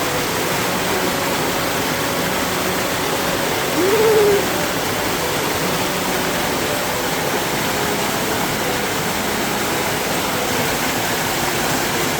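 A steady stream rushes and burbles continuously at moderate loudness, with a brief faint tonal hoot-like sound partway through.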